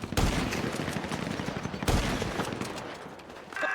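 Rapid gunfire from a video game gun fight with light machine guns and a sniper, loud sustained bursts of shots with two sharp heavier blasts, no talk.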